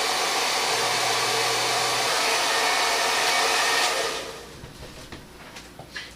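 An Avanti professional hair dryer runs with a steady loud broadband whoosh and motor hum for about four seconds, then switches off and winds down, leaving faint clicks and handling noises.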